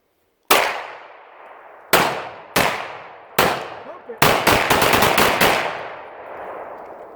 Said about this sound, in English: a side-by-side comparison here between the 45 and the 9mm, and just kind of show you some of the differences in the recoil